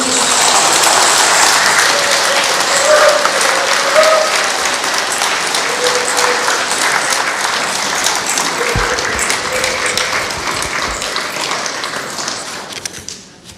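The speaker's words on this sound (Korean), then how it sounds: "큰 박수로 환영해 주십시오" Audience applause at a parish Advent lecture on holy reading, welcoming the priest: steady, dense clapping from a room full of people throughout, gradually thinning and stopping at the end.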